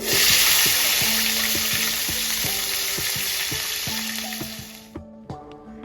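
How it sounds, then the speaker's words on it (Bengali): Cut green beans frying in oil in a pan, a loud steady sizzle with repeated scraping and clinking of a spatula, fading out near the end. "একইভাবে এখানে বিনসগুলোও ভেজে নেব"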